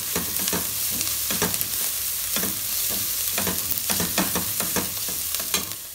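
Chopped leek sautéing with red and white onion in a pan, with a constant loud sizzle and frequent close scraping stir strokes repeating in a loose rhythm.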